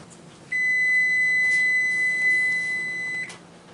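A single long electronic beep from an oven control panel while setting temperature and timer, a steady high tone held for nearly three seconds against a quiet kitchen background.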